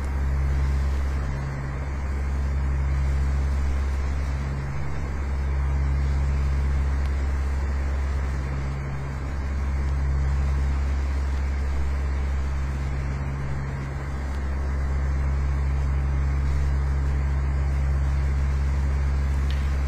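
A single-engine aircraft in Microsoft Flight Simulator X, throttled back to about 2000 RPM, makes a steady low engine drone with slow, gentle swells in loudness, continuous and alone with no voices.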